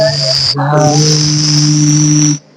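A voice imitates a cricket with a loud, shrill, sustained buzzing tone held for about two seconds, close to the listener.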